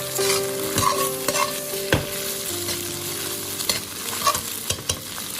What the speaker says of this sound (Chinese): 把刚才准备好的胡萝卜丁、青豆、玉米加进来，再快速的翻炒，炒干它们的水分